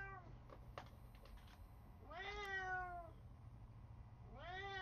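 A cat meows in the video game The Sims 3: two drawn-out, rising-and-falling meows, the second cut off as the clip ends, fairly clear over a low steady background hum with a few faint clicks earlier.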